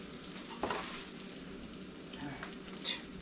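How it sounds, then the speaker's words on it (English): Pepper quesadilla frying on a griddle, a quiet steady sizzle nearby with a couple of faint scrapes and clicks. "And then fold it up. And put it on the griddle."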